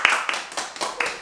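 One person claps alone, about five separate close hand claps in an uneven rhythm with short gaps between them.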